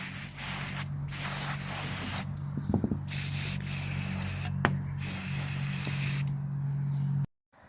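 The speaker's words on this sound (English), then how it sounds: "Give it a good spray and soak with this." Protective spray hisses onto bare metal of rusty garden pruners in short and longer bursts, close up, with brief gaps, some rubbing handling noises and a few faint clicks.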